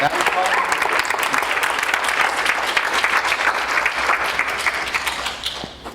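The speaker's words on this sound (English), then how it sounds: "Give him a big round of applause, please." A crowd gives a steady, loud round of applause for a guest at a content marketing event, sustained dense clapping throughout that tapers slightly at the close.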